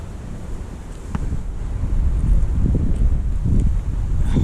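Strong wind blows across a seaside fishing pier, buffeting the microphone with a loud, steady low roar that swells slightly as it goes, with faint water movement beneath and no talk.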